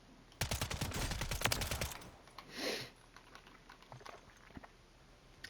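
SMG fire in a Call of Duty match: one rapid, loud burst of evenly spaced shots lasting about a second and a half, then a brief whoosh and quiet ambience.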